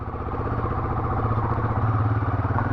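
A cold Guerrilla motorcycle runs nearby with a steady, throbbing mid-pitched engine note and a light mechanical clatter. It holds a fairly even rhythm, with no voices over it.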